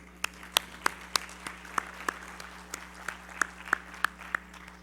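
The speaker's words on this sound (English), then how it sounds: "You have to give him a round of applause." Sparse applause from a small audience at a sustainable energy forum in Barbados, about a dozen separate claps spread over five seconds over a steady low hum, faint and roomy.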